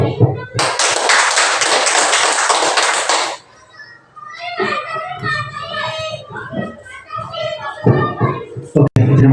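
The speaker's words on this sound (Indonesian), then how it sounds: "Sekali lagi kita berikan tepukan tangan." An audience at a school event claps together in a dense burst of hand applause for about three seconds, then dies down as children and adults chatter nearby.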